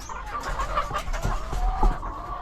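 Several white laying hens cluck softly and intermittently nearby, with a low background hum and no talking.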